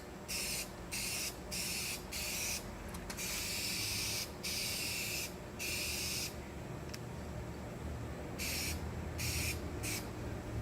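Spray gun applying a light color coat over a fiberglass repair on a shuttle bus RV conversion. Close, loud hissing bursts of several seconds each start and stop repeatedly with short pauses between passes.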